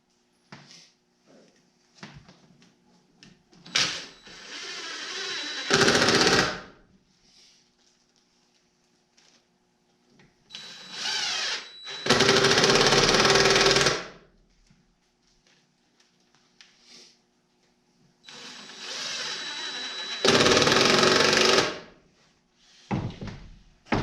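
A power drill drives screws into a DIY wooden shelf for hanging keys, heard as three loud, close whirring bursts of a couple of seconds each, separated by quiet pauses.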